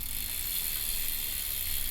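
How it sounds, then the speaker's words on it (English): A bicycle chain and cassette are turned by hand with gears shifting, giving a soft continuous whirring tick of the drivetrain at close range, faint and steady throughout. "roll it round a bit, change the gears through a bit"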